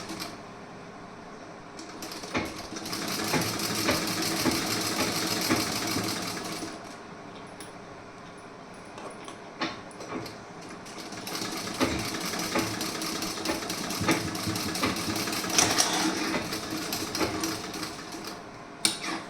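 A sewing machine runs in long bursts while tacking stitches onto a piece-style blouse, its rapid mechanical whirr rising and stopping with short pauses, close and steady, with a few light clicks between runs and no talking.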